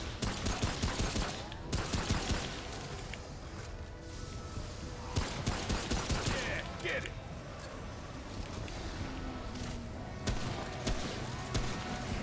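Rapid, loud gunfire from a gun in Remnant: From the Ashes, clustered bursts of shots repeating across the stretch, with a voice talking over the shooting.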